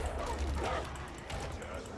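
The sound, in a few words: dog enemy sounds in video game Darktide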